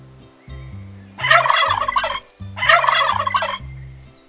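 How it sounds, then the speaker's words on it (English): A turkey on a farm lets out two loud, rapid gobbling bursts over a simple children's tune. "Who's making those strange gobble sounds, Wunderschmutz?"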